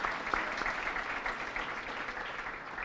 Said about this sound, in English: we can applaud, that's all right.